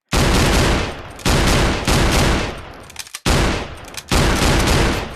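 A shotgun in a video game fires rapidly like a machine gun in loud, dense, sustained bursts, with brief gaps between four long volleys.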